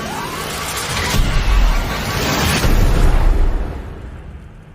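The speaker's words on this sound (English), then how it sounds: "Fire thrusters now!" Spacecraft thrusters fire in a sustained roaring, rumbling burst that swells twice and then fades, loud and close, amid cockpit-style dramatic noise.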